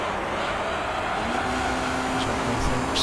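A race car engine from Gran Turismo 3 drones steadily, its pitch holding at a sustained tone as it rises gently, close and continuous with no talk over it.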